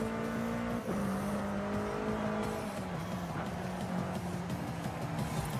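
A classic BMW M3 races through a tight town chicane in Forza Horizon 5, its engine droning steadily and loudly with shifting pitch and a brief gear change, alone without talk.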